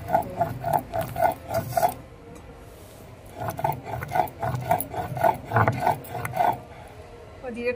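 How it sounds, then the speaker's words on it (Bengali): Cumin is ground to a fine paste on a grinding stone, with repeated rhythmic rubbing and scraping strokes close by in two runs separated by a short pause, while someone talks over it. "দেখুন একদম মিহি করে চন্দনের মতো করে বেটে নিয়েছি।"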